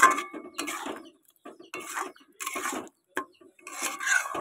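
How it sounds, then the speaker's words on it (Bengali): Sugar being stirred in a cooking pan, giving gritty scraping and rubbing strokes in uneven bursts with short pauses between them, close and moderately loud with no talking. "এবার এটাকে সুন্দর করে নাড়তে হবে।"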